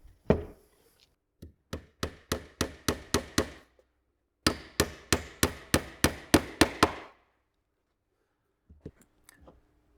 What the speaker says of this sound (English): And then we're going to just nail down through this corner piece here.